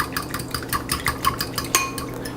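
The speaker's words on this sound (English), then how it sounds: "Give that a quick stir." Dry yeast being stirred into water in a bowl, a utensil scraping and clinking against the sides in quick repeated strokes, close and moderately loud with no talking.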